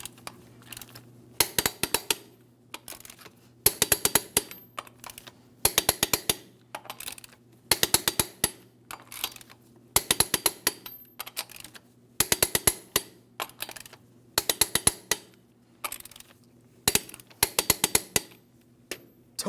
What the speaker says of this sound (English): Let's go ahead and torque each of these lug nuts to 140 foot-pounds in a crisscross manner.